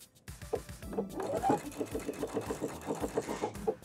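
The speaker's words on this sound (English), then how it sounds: "We're gonna pivot and sew down the side seam." A sewing machine stitching down the side seam of an inseam pocket, running in quick, regular mechanical bursts with a short pause and restart, fairly quiet and close.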